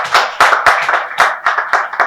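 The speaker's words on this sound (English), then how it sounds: "A round of applause for yourself." Audience applause at a business school fair, a crowd clapping in quick, uneven bursts, close and loud with no talking over it.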